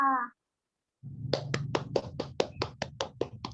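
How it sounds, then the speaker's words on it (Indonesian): A classroom group claps hands together in a quick, fairly regular series of sharp claps, about a dozen in a row, following a brief voice and a short silence. "tepuk tangan dulu untuk kita semua"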